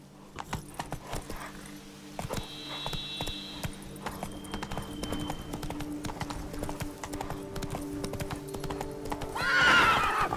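Horse hooves clip-clop at a steady galloping rhythm throughout, with a whinny near the end, set in the video game The Witcher 3: Wild Hunt – Blood and Wine, loud and close amid game ambience.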